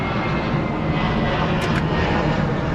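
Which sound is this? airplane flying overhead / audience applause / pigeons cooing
airplane flying overhead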